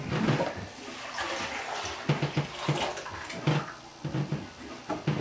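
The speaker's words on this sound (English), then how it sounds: "We're going to pour this in here," Blended homemade milk poured from a blender through a straining bag into a pot, a steady close splashing liquid stream that rises and falls over several seconds.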